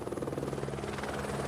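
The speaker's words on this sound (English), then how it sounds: "When a helicopter arrives at base camp," A helicopter arrives at Everest base camp, its rotor thudding in a rapid, steady pulse with a constant engine whine, moderately loud and unbroken throughout.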